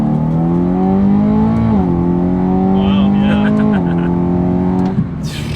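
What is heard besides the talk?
supercharged S65 V8 BMW M3 engine accelerating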